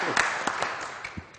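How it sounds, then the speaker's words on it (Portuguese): An audience claps at a public gathering honoring a guest speaker: a dense, fairly close patter of many hands that rises and thins, with voices mixed in. "Vamos aplaudir, gente, vamos aplaudir"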